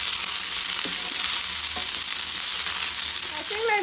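Radish (mooli) pieces sizzling and frying in a pan while being roasted toward golden, a steady close crackle with a few stirring scrapes.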